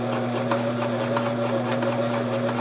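Sears Kenmore sewing machine running a stretch stitch, a steady mechanical hum with a fast rhythmic needle chatter, close and continuous with no talking.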